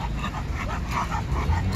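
Dogs whimper and yip in short, close bursts over a constant low background rumble during grooming, with a rear end being cleaned, and no clear speech.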